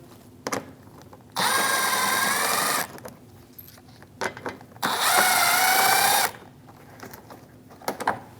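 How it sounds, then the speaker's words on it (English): A power tool fitted with a 7mm socket runs in two sustained, loud whirring bursts of about a second and a half each while removing screws from the front bumper of a 2016-2025 Chevrolet Malibu 1.5L, with scattered clicks and handling noises between them. "Using a 7mm socket, I'm going to remove the one on the corner."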